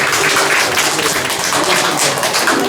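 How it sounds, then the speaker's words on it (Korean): A church congregation claps together during a Sunday worship service, a dense, steady wash of applause filling the whole stretch at full loudness with no pause. "축복의 박수 한번 힘차게 하겠습니다."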